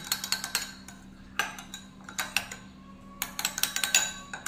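Bun dough ingredients mixed in a bowl: quiet bursts of rapid clinking and scraping of a utensil against the bowl, in short rhythmic runs with brief pauses, close and faint.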